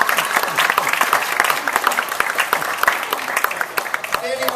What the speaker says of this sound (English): This is where you're supposed to applaud.